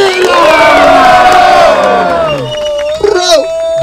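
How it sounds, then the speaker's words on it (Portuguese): Battle rap event crowd at Batalha da Aldeia in Barueri roaring and shouting in a loud, dense swell that peaks and then fades, followed by a couple of brief whoops and a sharp cry. "Barulho pra bater, Farinha"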